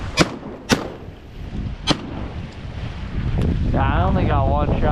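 Shotgun blasts at diving ducks on a cold, windy lake shore during a public land hunt: a few sharp, loud reports in quick succession over steady wind noise, followed by a duck call and a voice.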